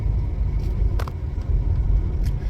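Road traffic makes a steady low rumble of passing cars, continuous and fairly close, with a few faint brief higher noises over the drone.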